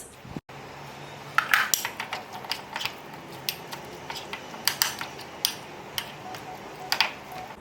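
A spoon mixes beetroot salad in a bowl with a run of sharp, irregular clinks and taps against the dish, close and clear, with no one talking.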